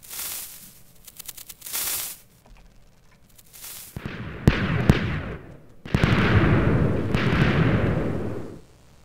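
Minecraft TNT cannon fire: several sharp blasts ring out, then two longer roaring explosions follow, loud and close with rumbling decay and no talk.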